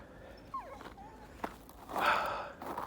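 Dogs give a few high, thin whimpers and whines outdoors after a snowstorm, brief and moderately close, then a burst of rustling noise, no talking.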